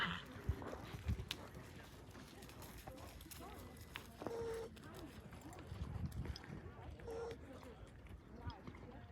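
Horse running in a barrel race at a rodeo jackpot, hoofbeats thudding in a quick irregular rhythm mixed with arena noise, under a voice talking nearby.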